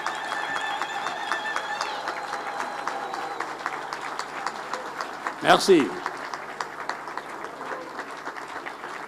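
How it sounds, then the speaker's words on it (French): Applause for the President of Djibouti at a swearing-in ceremony, spread across the whole stretch as steady clapping under a formal voice, with a brief burst of handling noise midway. "Applaudissez."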